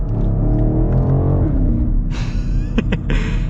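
A 2022 BMW X7 M50i V8 engine revs hard while driving in manual mode, a loud low drone rising in pitch, then sharp upshift breaks with brief pops near the end.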